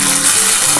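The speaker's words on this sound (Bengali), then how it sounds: "আমার তেলটা গরম হয়ে গেছে, আমি এবার আদা মৌরি বাটাটা দিয়ে দিলাম।" Ginger and fennel paste dropped into hot oil, making a loud, steady sizzle and crackle up close for a brief moment.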